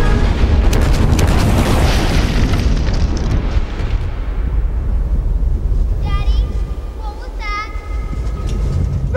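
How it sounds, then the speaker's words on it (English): Film sound effect of a supervolcano eruption, the ground bursting open in a 30-mile-wide explosion: a huge roaring blast with rumbling debris that slowly fades, then shrill voices cry out near the end. "The ground actually bubbles up and rips open, and then we have 30-mile-wide explosion."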